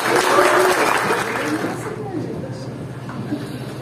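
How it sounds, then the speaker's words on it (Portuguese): Audience applause at an academic award ceremony and book launch, a dense steady wash of clapping that is loudest at first and then thins slightly as it continues. "Gostaria de pedir a todos uma salva de palmas"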